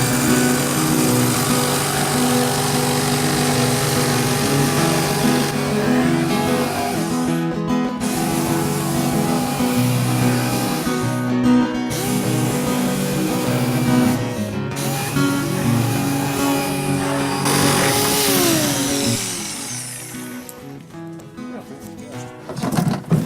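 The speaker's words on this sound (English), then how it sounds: "Take your jigsaw and hopefully cut the circle out." An electric jigsaw cuts a circle out, starting from a drilled pilot hole. It gives a loud, steady, close buzz with shifting pitch for about twenty seconds, then winds down and stops, with no voices.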